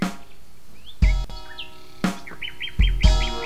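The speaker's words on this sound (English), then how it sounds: "we should have our birds singing here" Bright bird chirps and short tweets repeat over a rhythmic beat with thumping hits, forming a looping musical pattern.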